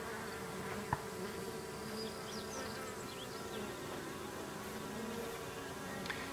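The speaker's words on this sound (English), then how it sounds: "These are all the worker bees that I basically separated from the hive." Japanese honey bee workers, split off from their hive, hum in a soft continuous buzz with occasional individual bees whining closer by, faint and steady with no talk.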